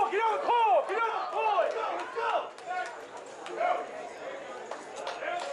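A crowd at a strongman competition cheers and whoops in bursts of excited shouting, loud and close, with overlapping voices and yells rising and falling.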